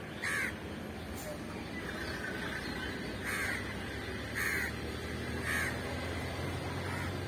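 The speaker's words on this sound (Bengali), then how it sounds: "আপনারা দেখছেন এই সকালে কি কিচিরমিচির শব্দে মন ভরে যায়" Crows cawing on a morning in rural Bangladesh, with about six separate harsh caws spaced a second or more apart, fairly distant over a steady outdoor background hum.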